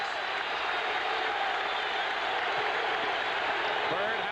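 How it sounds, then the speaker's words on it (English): Basketball arena crowd at a 1982 playoff game between Philadelphia and Boston, cheering on Philadelphia in the fourth period of game 6: a loud, steady roar of many voices filling the hall throughout, with a commentator's voice faintly under it. "listen to the crowd as they urge on Philadelphia"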